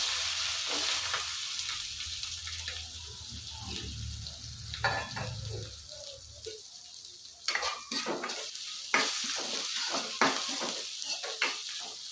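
Curry leaves, onion and green chillies going into hot oil in a pan, with a steady sizzle that fades and gives way to scattered clinks and scrapes of stirring.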